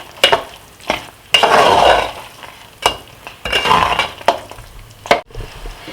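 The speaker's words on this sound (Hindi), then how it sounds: "तो चलिए इसे देसी घी और इलायची के साथ अच्छे से भून लेंगे।" Grated carrot halwa roasting in desi ghee with cardamom, a soft steady sizzle broken by repeated scraping stirs and sharp clinks of a spoon against the pan, close and fairly loud.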